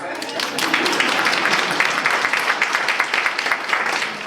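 Audience applause at the 2022 DeSoto, Texas mayor's State of the City address, a steady wash of many hands clapping that rises quickly and holds at an even, fairly loud level throughout.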